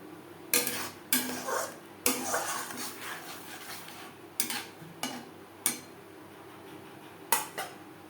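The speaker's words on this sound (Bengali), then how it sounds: "মশলার সাথে বেশ ভালো করে মিক্স করে দেব দু তিন মিনিট নাড়াচাড়া করে নেওয়ার পর" A metal spoon scrapes and clinks against a pan while pieces of rui fish are stirred with spices and tomato, irregular sharp clatters separated by quieter shuffling, close and fairly soft.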